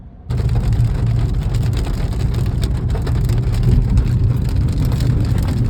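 Heavy rain begins abruptly during an outing to a mango festival in Delhi and keeps pounding a surface in a loud, dense roar, with a low rumble beneath it.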